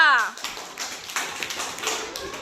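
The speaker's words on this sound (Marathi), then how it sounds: "हा टाळ्या वाजवा" A class of first-grade schoolchildren clapping together during a number game, a brief adult voice at the start followed by a loose ragged burst of many small hands clapping, fairly close.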